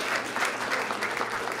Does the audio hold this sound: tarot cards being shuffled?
no